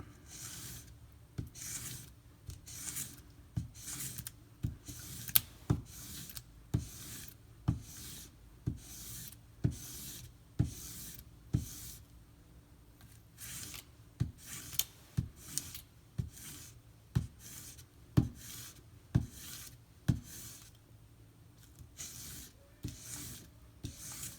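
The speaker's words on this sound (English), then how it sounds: "it can use a couple more passes across the 5K stone" A knife edge on a BRK Northstar EDC knife being drawn across a 5000 grit whetstone, soft rhythmic rasping strokes repeating steadily at close range with no talking.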